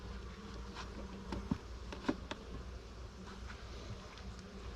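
Honeybees buzz around an open hive holding two queens in Texas, a steady low drone close by with a few faint knocks and clicks scattered through it, and no talk.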